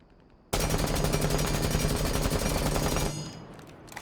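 A gun in Rainbow Six Siege fires one sustained full-auto burst of about two and a half seconds, evenly spaced rapid shots, loud and alone, then cuts off into a fading tail.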